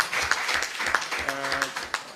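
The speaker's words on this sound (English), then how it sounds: "can we please give him a round of applause for that support" At a minister's public gathering with young people, the crowd gives a brief round of clapping in quick uneven bursts, with a voice briefly rising underneath midway.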